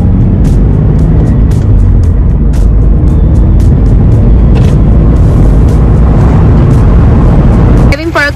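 Car driving on the road, with a loud, steady rumble of engine and tyre noise throughout and a few brief sharp knocks.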